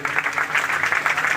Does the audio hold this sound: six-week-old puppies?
no